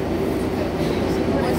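An R142A number 4 express subway train bound for the Bronx rumbles from inside the car, a loud continuous low roar of wheels and motors.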